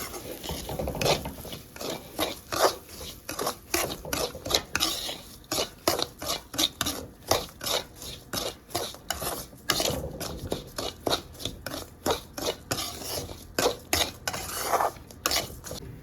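Semolina dry-roasting for rava laddu, stirred steadily in a metal pan: a continuous run of close scraping and rasping strokes with small clinks of the spoon against the pan, no voices.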